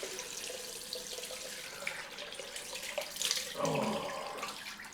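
Cold water runs from a tap for a rinse during a head shave, a steady splashing flow that grows louder and fuller toward the end, with no talking.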